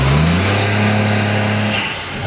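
A Honda S660 engine revs loudly and close up, a strong steady drone that holds for about two seconds and then drops away.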